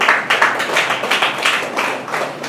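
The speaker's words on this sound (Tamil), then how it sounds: "கைத்தட்டி ஆமென் சொல்லுங்க." A church congregation claps hands together in a quick, uneven burst of overlapping claps that rises and falls over a couple of seconds, close and fairly loud, with no speech over it.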